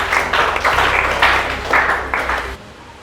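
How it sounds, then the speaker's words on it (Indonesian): Students in an Indonesian secondary-school sociology lesson applaud in a classroom, giving several uneven bursts of clapping that swell and fade before trailing off into quiet near the end. "tepuk tangan dulu semuanya"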